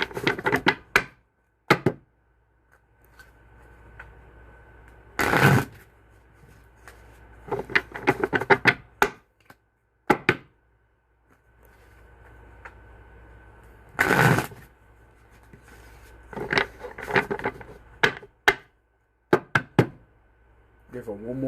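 Intermittent bursts of tarot cards being shuffled and riffled, with quiet pauses between them and a soft background hum; the shuffles sound close and crisp.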